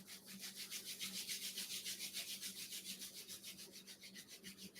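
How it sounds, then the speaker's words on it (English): Palms rubbing briskly together during a yoga eye exercise, a steady run of quick, even back-and-forth swishes lasting throughout, close and fairly soft, with no talking. "Rub your palms together to generate some warmth"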